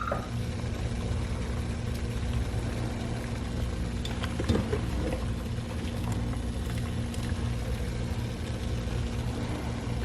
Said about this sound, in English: take a picture of the tomatoes while they are boiling in that vinegar water